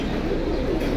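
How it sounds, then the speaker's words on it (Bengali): Pigeons at a bird-market stall in Jinjira Bazar coo softly in a low, continuous murmur, fairly close and steady throughout. "এই যে এখানে আরেকটা কবুতর"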